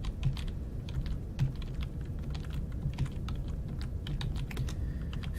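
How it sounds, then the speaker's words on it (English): Fast, uneven clicking of computer keyboard keys during a Kerbal Space Program landing attempt, in rapid close-up bursts with a few heavier strokes, with no speech. "Furiously tapping the keys here."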